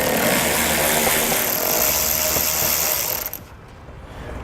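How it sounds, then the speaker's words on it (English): A ratchet with a T30 Torx bit spins out Torx bolts on a 2018 Ford Focus front end, giving a loud, close, continuous rapid clicking and whirring that stops abruptly near the end. "So you're going to want to grab a T30 Torx bit again, and we can pull those fasteners out."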